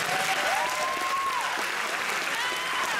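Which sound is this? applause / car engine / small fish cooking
applause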